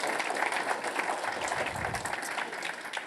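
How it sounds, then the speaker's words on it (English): An audience in a library applauds its beloved library staff, a steady wash of clapping that holds for the whole stretch without a break. "let's give a nice round of applause to the beloved library staff for all they do for us."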